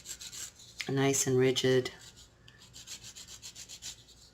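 Sanding sticks rub over the top and jump ring of a handmade wire-woven pendant, giving soft, quick rasping strokes after a brief spoken remark; the scraping stays quiet and close.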